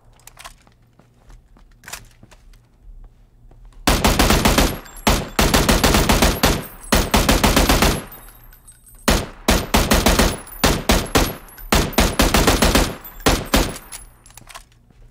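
Rapid, loud bursts of gunfire in PUBG fired from a shotgun/M16 loadout, with repeated close volleys and short pauses between them against a quiet background.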